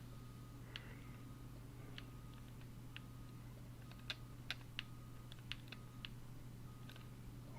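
Sparse keystrokes on a computer keyboard while playing Farming Simulator 19, faint individual clicks and small clusters over a steady low hum, with no talking.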